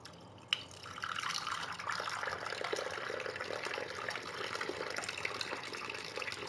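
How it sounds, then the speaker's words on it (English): Water pours steadily in Alan Wake 2 like a small fountain, a continuous splashing trickle that starts after a brief click and runs on evenly at moderate level, with no voices. "He likes when I pour it for him like a fountain."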